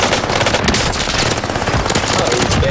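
Loud, close automatic gunfire in a video game firefight, with rapid shots rattling in a continuous stream and overlapping bursts throughout.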